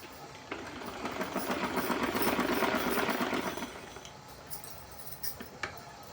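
A sewing machine stitches cloth for a small Laddu Gopal deity dress indoors, a faint steady whirring run of a few seconds that stops, followed by soft handling clicks.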